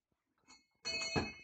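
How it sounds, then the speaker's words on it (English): A dog strikes a doorbell-style bell on command, giving a single bright ringing tone with a long decaying shimmer, close and fairly loud after brief quiet. "Ring the bell, Bella."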